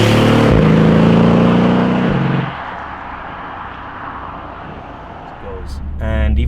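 A Mercedes S63 AMG coupe, twin-turbocharged, accelerating hard with a loud, rising engine note that drops to a steady cruising drone, then swells again near the end as revs climb; a voice talks over it.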